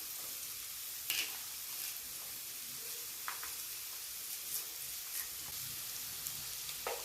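Beans, carrot and capsicum frying in a pan give a steady, soft sizzle that runs throughout, with a few brief scraping stirs near the start and at intervals.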